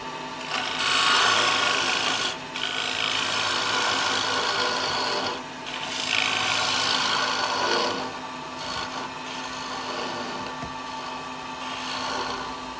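A woodturning lathe whirs steadily while a carbide chisel cuts into the bottom of a small wooden cowboy hat, a continuous close rasping scrape that pauses briefly twice before running on.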